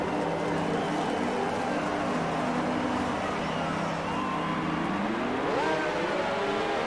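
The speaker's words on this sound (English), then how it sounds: "And the cars are revving their engines." Race cars in F1 2019 rev their engines together on the grid in Bahrain, a loud, steady roar with rising and falling pitch sweeps as someone talks over it.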